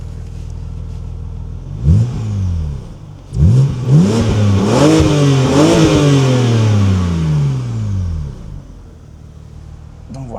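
A BMW Z4 E86 coupe with a 265 hp engine revs hard nearby in several loud, rising blips that sweep up and fall back, then settles toward idle.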